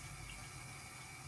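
A high-pressure tap gushes water onto a washcloth in a steady, loud, continuous hiss with no break.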